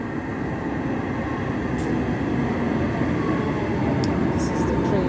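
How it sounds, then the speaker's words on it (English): A train rumbles steadily into a station, a low continuous roar with a few brief higher squeals near the end. "This is the train arriving."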